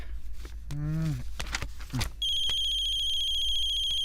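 A phone ringtone starts partway through and rings steadily with a bright electronic tone, following a few brief rustles and a short sliding vocal sound.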